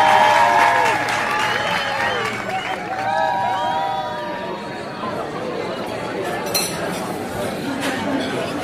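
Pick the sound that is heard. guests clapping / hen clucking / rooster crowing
guests clapping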